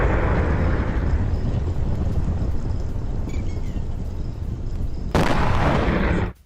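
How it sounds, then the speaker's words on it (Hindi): US missile strikes on Iran produce a loud, rough roar of blasts, followed by a sudden sharper burst just before the sound cuts off abruptly. "अमेरिकी स्ट्राइक फिर से शुरू।"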